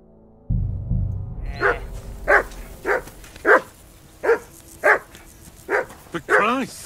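Dog from Kingdom Come Deliverance II barking in a run of about eight sharp, evenly spaced barks ending in a longer yelp, close and loud over a low rumbling background.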